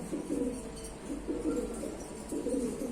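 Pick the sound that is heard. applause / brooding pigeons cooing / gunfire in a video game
brooding pigeons cooing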